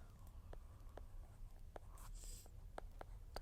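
Pen or chalk taps and scratches out short strokes on a board or paper during a knitting lecture, a steady run of faint, evenly spaced marks over low room hum.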